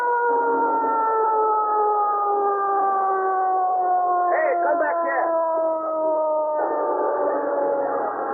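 Ambulance siren wailing steadily in a long sustained tone, moderately loud and fairly close, with a brief warbling burst midway and the siren sound thickening near the end.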